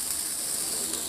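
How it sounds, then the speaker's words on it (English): Spicy marinated pork ribs sizzle while cooking, a dense steady hiss of frying fat that is continuous and fairly loud for about a second, heard alone. "Can you guys hear that sizzle?"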